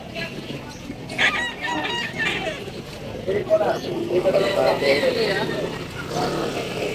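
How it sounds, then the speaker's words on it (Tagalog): Native chickens cluck and a rooster crows amid a busy outdoor livestock and pet market in Bulacan, Philippines, with people talking nearby over the birds. "Mga native na mga manok."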